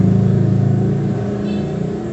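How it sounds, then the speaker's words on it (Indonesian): A motorcycle fitted with a loud racing exhaust goes by close at hand, giving a harsh, throbbing engine drone that stays loud and steady throughout. "Waduh, knalpot berisik banget ya."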